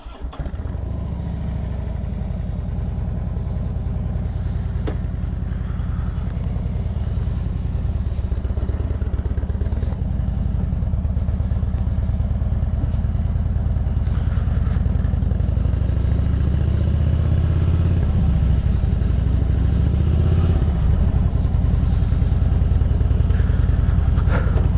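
A Harley-Davidson Softail with a 1.6-litre engine being ridden, its loud, steady engine drone running close and continuous throughout, with no talking.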